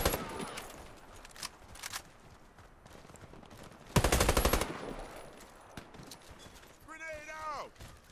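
Automatic gunfire from the 805 Bren A2 in the video game Warface rattles out in a few short bursts, one loud rapid volley standing out, with quieter game sounds and a chirping effect between them.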